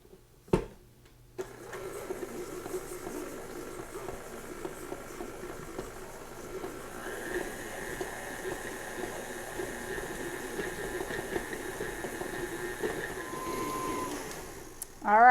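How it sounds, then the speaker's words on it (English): Electric mixer creaming butter and sugar for snickerdoodle muffins, a steady whirring drone running almost continuously after a brief start, fairly quiet and close with no talking. "I'm just going to beat the sugar and the butter together until it's nice and creamy."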